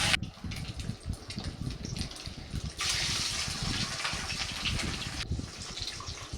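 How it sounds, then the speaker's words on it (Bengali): Katla fish belly pieces frying in hot oil with turmeric, a loud steady sizzling hiss that surges partway through, with faint stirring and no speech. "সবগুলোই মাছের পেটির অংশ আমি এভাবেই তেলেতে ছেড়ে দিয়েছি"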